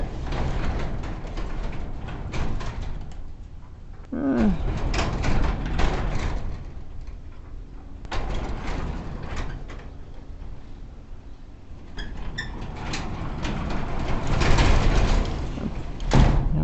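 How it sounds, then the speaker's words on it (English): Residential garage door with a replaced spring lifted by hand to test its balance, giving rolling rumbles and clattering panel movement in several long passes with brief quieter gaps between. "We should be able to lift the door easily with one hand."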